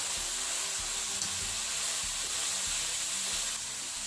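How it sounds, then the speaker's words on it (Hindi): Carrots, potato, cabbage, tomato and green peppers fry in a pan for chicken vegetable noodles, a loud, dense, continuous sizzle close by, with low clatters of stirring throughout and no talking. "अब हम साथ ही इसमें गाजर, आलू, बंद गोभी, टमाटर और सब्ज मिर्च ये डालकर अच्छी तरह फ्राई करेंगे"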